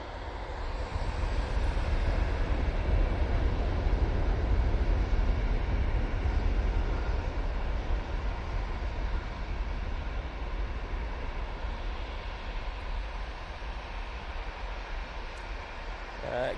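A TUI Boeing 737-800 airliner departs Manchester Airport with a broad, steady jet roar that swells early, then eases slightly and holds, heard from a distance outdoors.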